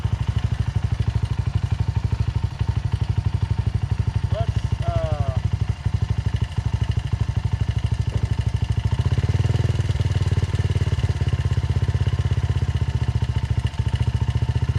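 A Honda CRF 80F dirt bike engine idles close by with a steady, low, rapid putter that never stops, and a voice speaks briefly over it partway through.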